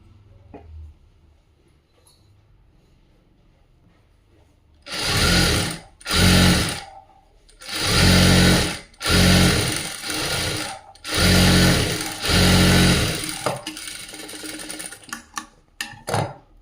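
A sewing machine stitches a half-inch seam and hem on a plain blouse, running in several loud, steady bursts separated by short pauses, with no talking.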